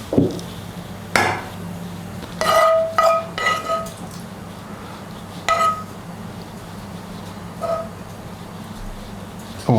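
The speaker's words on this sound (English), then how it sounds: "let's mix our vareniki with onion" Vareniki dumplings being mixed with onion in a dish, with a few scattered clinks and knocks of a utensil against the dish separated by quiet pauses.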